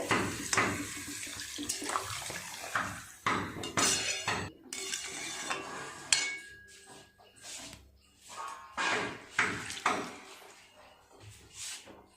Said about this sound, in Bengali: দিয়ে দেব পরিমাণ মতো জল, সবজিগুলো সিদ্ধ হবে।